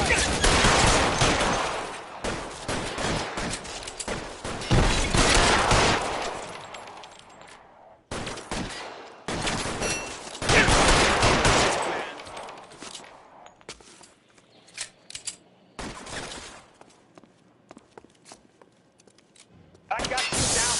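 Gunfire in the L.A. Noire video game crackles in dense bursts and scattered single shots, loud and close, with stretches of quiet between volleys and a final burst at the end.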